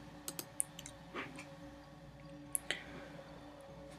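A computer mouse gives a few faint, sharp clicks in a quiet room, spaced about a second apart, over a low steady hum.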